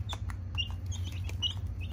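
Chickens eating a specially blended feed mixed with bugs, giving soft clucks and short chirps over a low steady hum of background noise.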